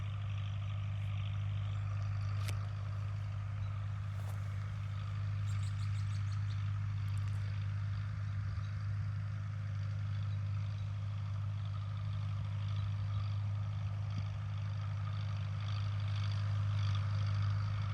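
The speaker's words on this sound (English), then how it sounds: "Can you hear the tractor going?" A tractor drones steadily while cultivating a corn field, a constant low engine hum heard from a moderate distance throughout, with faint scattered clicks over it.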